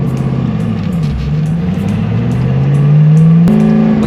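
Twin-turbo C6 Corvette accelerating from inside the car: a loud, rising engine drone that climbs steadily in pitch, briefly drops at a gear change, then pulls again.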